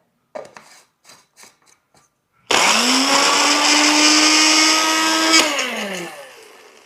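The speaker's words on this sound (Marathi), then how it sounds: "आपला हा जो ब्लेंडर आहे ना" A few soft clicks and taps, then a kitchen blender grinding ginger, garlic and green chilies roars to life, whirring loudly and steadily for several seconds before winding down.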